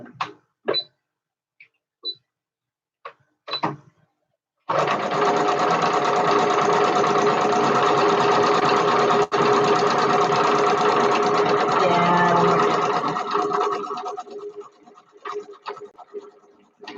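A sewing machine stitches a buttonhole with topstitching thread in one long, loud, steady whirring run of about ten seconds, preceded and followed by scattered handling clicks and taps.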